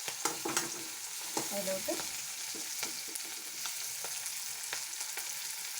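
Cut green chilies sizzle in a hot pan, with a steady close frying hiss broken by spatula stirs and scrapes, and a brief voice speaking early on.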